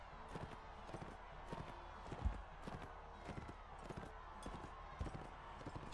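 Horse hooves clip-clop in a fast, steady gallop within the Mount & Blade Warband video game, the rhythmic beats running through the whole stretch over a dense battle backdrop.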